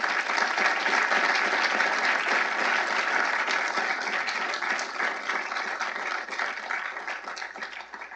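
An evening lecture audience on Justice Thomas's thirty-year legacy on the Court breaks into sustained, dense applause that fills the room and tapers slightly toward the end.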